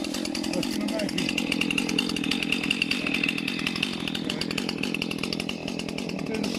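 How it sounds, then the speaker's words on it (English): Chainsaw running continuously while trees are being felled in woodland, a steady buzzing engine drone at close range with no break. "Not easy with the sound of the chainsaw."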